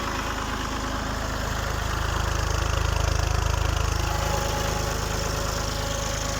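A tractor engine at full throttle drives a PTO generator, running steadily at high revs, a constant low droning hum with mechanical vibration, close by and continuous, with no voices.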